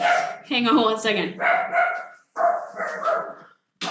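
A pet dog barks indoors in short sharp bursts, alternating with pauses, while someone speaks nearby.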